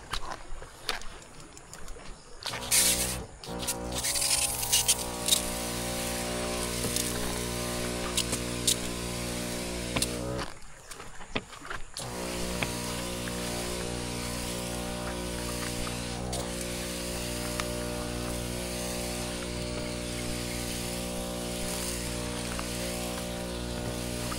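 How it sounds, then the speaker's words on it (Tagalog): A motorized sprayer sprays plants and weeds in a garden, giving a steady droning engine hum with a hiss of spray. The sound cuts out briefly twice before running on evenly. "Ay mga karudoy, spray tayo."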